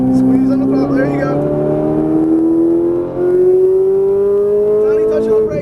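Ferrari 458 Italia pulling hard on a race track, a loud, steady engine tone climbing smoothly in pitch over several seconds as it accelerates, with a brief dip midway, heard from inside the car while an instructor's voice talks over it.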